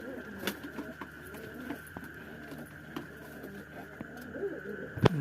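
Low, soft cooing of two female pigeons sitting together on eggs close by, intermittent over a constant whine, with a sharp clatter near the end.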